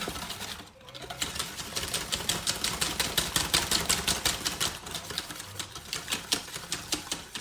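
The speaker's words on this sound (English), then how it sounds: "Now with the whisk." A wire whisk beats dark chocolate cake batter in a bowl, making rapid, evenly spaced clicking strokes that run steadily and close up after a brief pause near the start.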